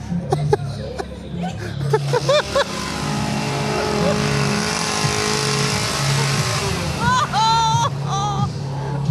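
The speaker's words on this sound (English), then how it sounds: "He's carrying a chainsaw and zeroes in directly on Monica. And by zeroes in, I mean he charges at her, chainsaw revving." A chainsaw at a haunted house attraction revs and drones loudly and close up, with several bursts of throttle as people talk and shriek over it.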